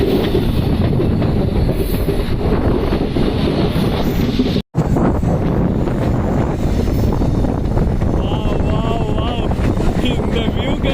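The Kollam Express, a 120-year-old train route, running with a steady loud rumble and rhythmic clickety-clack of wheels on rails, plus wind buffeting and a brief dropout midway.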